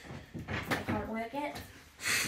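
A bedroom door is worked at in a struggle to open it, giving a few knocks and rattles, with a louder clunk near the end, mixed in with someone speaking close by.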